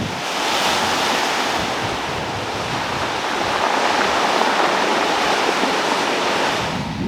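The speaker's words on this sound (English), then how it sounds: "every time the tide goes back out on the pebble beach down there, you can hear all the rocks like" Surf washing over a pebble beach on the Gozo coast and drawing the stones back into the sea, a steady, loud broadband rush and hiss that continues unbroken with no voices.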